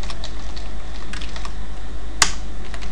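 Typing on a computer keyboard, a scattered run of close, light key clicks with one sharper keystroke standing out near the end, over a steady low background hum.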